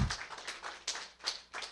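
A church congregation claps together, a short burst of applause with several uneven bright peaks over under two seconds, moderately near and without talk.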